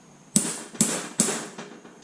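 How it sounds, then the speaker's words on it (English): Three sharp metallic taps from a center punch on a metal bracket, spaced about half a second apart, each ringing briefly before fading, with a faint fourth tap at the end. "use our center punch, tap it"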